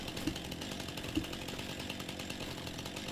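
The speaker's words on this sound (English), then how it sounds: "Whip out the chainsaw." A chainsaw cuts trees in Farming Simulator 25 as a steady, buzzing engine drone, moderately loud and unbroken for several seconds, with a couple of soft thuds near the start.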